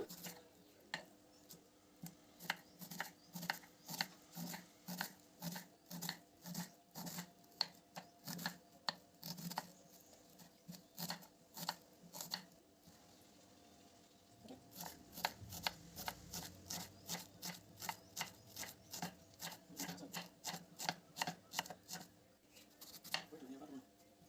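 Green plantain sliced crosswise with a knife, a long run of quick, evenly paced chopping taps on a board, close and fairly crisp, with a short pause midway before the steady cutting resumes.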